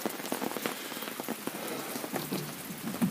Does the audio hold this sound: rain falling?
yes